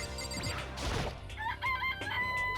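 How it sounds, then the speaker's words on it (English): A chicken in the video game Danganronpa: Trigger Happy Havoc crows and clucks, loud and close, with a short crash-like burst early on followed by rising, strained crowing calls. "It's a chicken."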